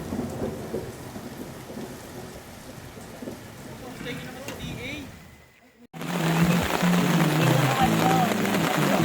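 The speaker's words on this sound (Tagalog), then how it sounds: "Camping in the rain." Rain pours on a campsite at a Tanay, Rizal farm, with thunder rumbling; a brief near-silent dip, then the downpour returns louder and closer, and voices can be heard faintly.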